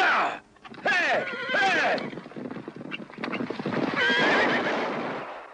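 Frightened horses in a Western setting: several loud, close whinnies and neighs rising and falling, with clip-clop and stirring noise between calls.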